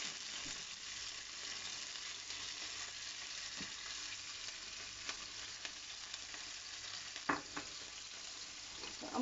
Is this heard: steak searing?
yes